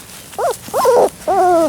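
Labrador puppies give three short, whining yelps in quick succession, the last one longer and steadier, close by with no talking over them.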